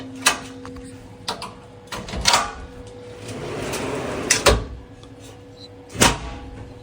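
A heavy-duty locking drawer slide in a van shelf build being pushed and pulled, with a rolling slide run, sharp clunks and latch clicks at each end of travel, close by.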